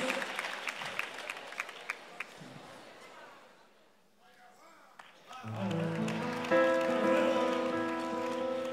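Audience applause for a performer: a crowd claps for a few seconds and dies down, then a guitar and voice begin playing a sustained, louder passage.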